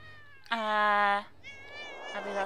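Cats meowing in the game Thirty Flights of Loving: one long, loud, drawn-out meow followed by softer, higher mewing, close and clear with nothing else over it.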